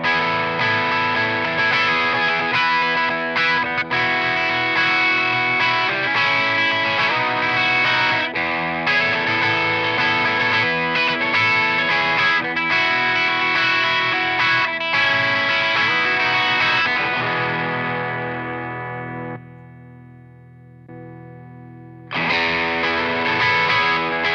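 Electric guitar with single-coil pickups through an Ibanez Tube Screamer overdrive pedal plays continuous chords and riffs with a thick, slightly gritty tone, briefly thinning to a sustained note before strumming resumes.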